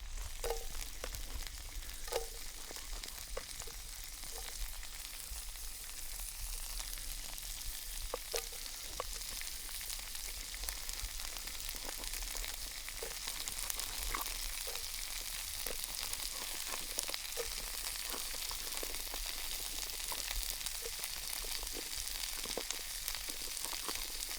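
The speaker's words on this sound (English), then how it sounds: "So we're going to add them in and let them cook as the sausage finishes cooking." Sausage and onions frying in a pan over a campfire outdoors, a steady close sizzle with scattered pops and crackles throughout.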